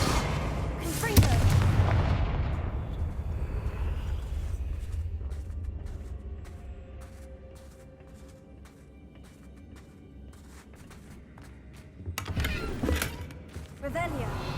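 Confringo fire spell blasts in the Hogwarts Legacy video game, a heavy booming explosion up front with a rumbling tail, then a second loud blast near the end, all without speech.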